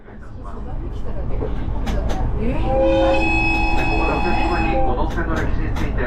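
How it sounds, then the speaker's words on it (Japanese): A JR Gono Line train runs between Higashi-Noshiro in Akita and Aomori, giving a steady, loud rolling rumble with sustained horn-like tones in the middle, under a calm narrating voice. "ただいま走行しております JR 五能線は秋田県能代市にございます 東能代駅から青森県田舎館村の川辺駅までを結んだ"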